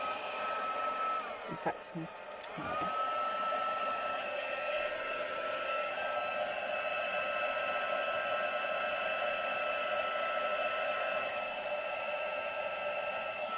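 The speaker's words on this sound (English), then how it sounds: "I'm just going to use the heat gun now, so maybe turn your volume down a bit" Heat gun blowing hot air onto modeling paste for a floral die-cut tag, a steady loud whooshing hiss that starts after a brief handling pause and runs continuously, with a voice speaking faintly over it.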